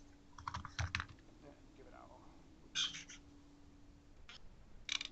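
Computer keyboard typing while renaming a document in Office 365, a few short faint clusters of key taps spaced apart, with a murmured voice at the start and a brief squeak in between.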